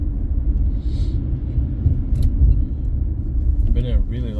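Car driving along Boulevard des Prairies in Laval, a steady low road rumble and engine hum inside the vehicle, with someone talking over it.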